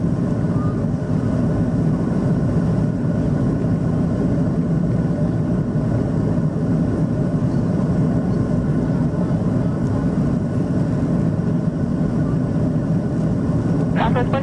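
Southwest airliner landing on runway 27 at San Diego, a steady loud engine roar throughout, with faint radio-like voices under the drone.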